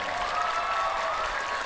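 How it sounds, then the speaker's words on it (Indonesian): At a night religious gathering with KH. Anwar Zahid and Habib Bidin in Kendal, the Zahirmania crowd claps in a steady, continuous wash, with a faint sustained tone running through it. "tepuk tangan untuk seluruh Zahirmania"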